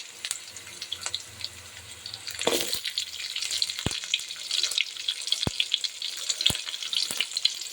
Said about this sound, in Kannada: ಅದ್ರ ಜೊತೆಗೆ ಇವಾಗ ಈರುಳ್ಳಿ ಹಾಕೊಳ್ಳೋಣ